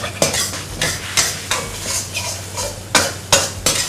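Ingredients for holy basil pork dry-fried in a hot pan without water, with a steady sizzle and repeated scraping stir strokes of a spatula, several sharp clanks against the pan, loud and close, no talk.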